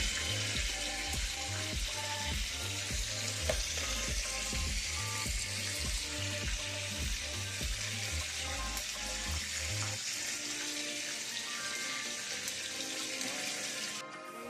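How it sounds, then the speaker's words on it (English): Heavy whipping cream and cheese go into a pot of simmering lasagna soup, with rhythmic low bubbling pulses for most of the time before easing into a softer steady hiss. "I'm gonna add a little heavy whipping cream and some cheese."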